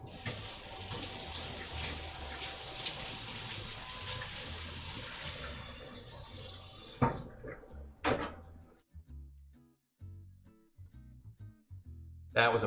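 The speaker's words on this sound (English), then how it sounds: "I'm just gonna give this guy a quick rinse." Kitchen tap water runs steadily as food is rinsed under it in a home kitchen, a continuous broad rush for about seven seconds that then stops, followed by scattered clatters and handling knocks.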